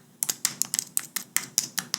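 Crisp, close clicks of typing on a computer keyboard, about a dozen quick keystrokes in an uneven rhythm, quiet and isolated with no speech.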